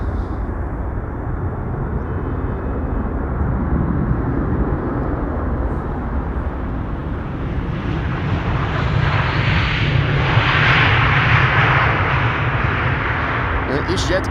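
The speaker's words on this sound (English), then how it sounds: "First airplane coming in, Vueling." A Vueling airliner arriving at Amsterdam Schiphol Airport, its engine roar a steady loud broadband rumble that swells toward the end as the jet passes close; no one speaks.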